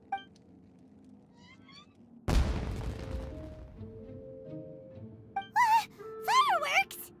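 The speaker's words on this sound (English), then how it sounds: "Was that an explosion? It sounded like fireworks." A single firework booms loudly in Genshin Impact and its crackling tail fades over a few seconds. Cat-like meowing cries and a character's voice follow.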